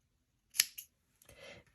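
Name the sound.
scissors cutting crochet yarn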